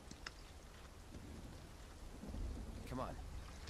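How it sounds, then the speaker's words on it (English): Rain and thunder from the video game Final Fantasy VII Rebirth: a steady hiss of rainfall with a low rumble swelling toward the end and a brief crackle near the close, with no talking. "Oh no, it's raining."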